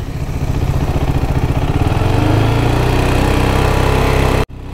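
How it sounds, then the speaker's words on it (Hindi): A KTM RC390 motorcycle engine, with a throttle fault that lets the revs drop, runs with a rough, pulsing single-cylinder note that rises and holds loud, then cuts out abruptly near the end before catching again. "बाइक में काम करवाना पड़ेगा इसको थ्रॉटल छोड़ दे रहा है"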